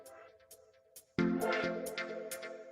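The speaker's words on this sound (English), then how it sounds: "That is the sound of a sale happening at Shopify." A Shopify sale notification chime rings out clearly, a bright cluster of tones that bursts in suddenly and rings on for over a second, loud and alone after a quiet moment of faint background tones.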